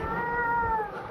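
A voice imitates a cat with a single drawn-out, wavering meow, close and clear.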